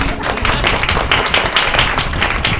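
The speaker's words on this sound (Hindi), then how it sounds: "एक जोरदार ताली" Audience at a network marketing seminar clapping loudly together, a dense, steady burst of many hands lasting a few seconds and filling the room with no speech over it.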